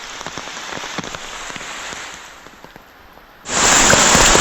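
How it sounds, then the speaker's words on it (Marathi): Heavy monsoon rain pours down in a forest as a dense, continuous roar that eases briefly and then surges much louder near the end. "पावसाचा जोर पण आहे त्याच्यामध्ये भरपूर"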